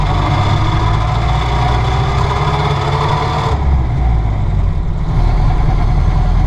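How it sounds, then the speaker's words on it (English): A Model A car engine runs steadily and loudly up close with a deep, continuous rumble, its tone shifting partway through as the gears change. "I'm going to watch you put it into first gear here and then shift through the gears"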